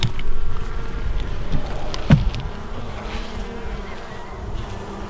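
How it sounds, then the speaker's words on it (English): Bees buzz steadily around beehives troubled by hive beetles, a continuous droning hum close by with no talking. "Lots of bees, lot of bee activity."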